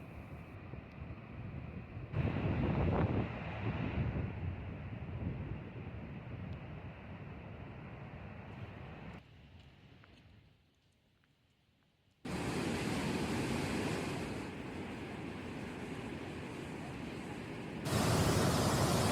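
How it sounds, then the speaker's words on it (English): Roar of Yellowstone's Upper Falls at the brink viewpoint, a steady broadband rush of falling water heard close and loud, dipping briefly before returning at full force, with no talking. "The brink of the Upper Falls was a powerful way to experience Yellowstone's most iconic waterfall."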